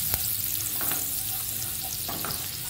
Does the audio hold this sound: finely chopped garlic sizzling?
yes